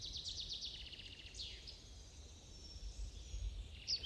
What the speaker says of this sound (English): And I can hear sparrows in the background too.